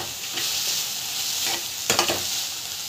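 Fresh mint leaves sauté and sizzle steadily in a pan for chutney, a continuous close frying hiss with a few sharper stirring scrapes near the end, no talking.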